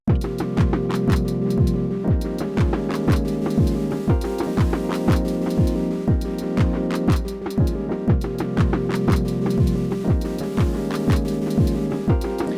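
A steady, repeating Elektron Syntakt drum pattern with punchy kicks and crisp hits in a tight loop, clean and unprocessed, playing alone.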